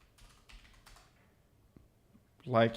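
Faint, rapid keystrokes clatter on a computer keyboard while a Figma website wireframe is being built, and a louder voice breaks in near the end.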